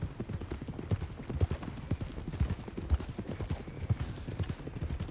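Horse hooves clip-clop steadily in Red Dead Redemption 2, a continuous even trotting rhythm of muted thuds heard fairly close.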